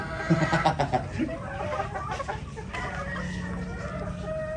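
Mother hens cluck repeatedly close by, a busy cluster of clucks and cackles with a rooster-like call mixed in.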